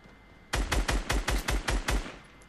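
Rapid automatic gunfire from the Fortnite video game rattles out in about seven loud, closely spaced bursts, each a quick string of sharp cracks with no voices.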